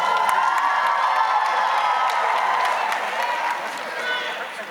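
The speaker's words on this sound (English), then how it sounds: "Give yourselves a big round of applause" Graduates and guests at a Shaw University commencement applaud and cheer, a broad crowd roar with scattered whoops and claps, fairly distant and easing toward the end.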